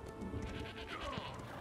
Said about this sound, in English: Why is there sheep everywhere?